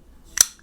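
A Boker Plus Lancer pocketknife blade snaps shut: a single sharp metallic snap, brief and close, with a faint tiny click just after.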